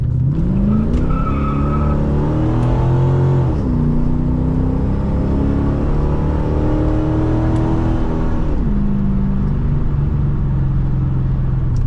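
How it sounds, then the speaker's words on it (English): A Corvette's 350 small block with a 700R4 transmission accelerates hard, revs climbing steadily through gear changes with audible shifts around four and nine seconds, loud and close from inside the car, no talking. "Let's do a little bit of a pull here."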